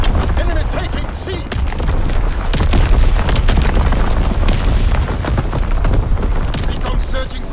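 Heavy artillery strike explosions in Call of Duty WWII, domination mode on the Shipment 1944 map: continuous loud rumbling booms and blasts across the whole stretch, dense battlefield chaos with radio-style announcer voice call-outs over the top.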